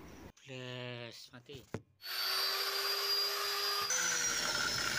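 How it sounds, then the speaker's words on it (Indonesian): Power grinder smoothing a handmade wooden door handle, a loud steady whine with a broad rough hiss that runs continuously through the second half, after some brief clatter and a short voice at the start. "kita gerinda dulu biar halus"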